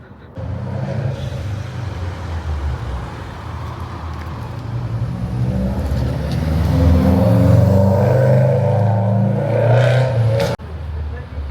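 A car with a loud exhaust passes through a small town street, its engine roar building to a peak as it goes by and then cutting off abruptly, with faint voices in the background.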